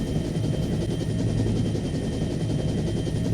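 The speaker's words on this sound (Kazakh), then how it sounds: "Қалған тікұшақтар да келді." Helicopters in an animated cartoon give a steady, loud, low chopping rotor thrum with no pause, close and filling the whole short stretch without voices.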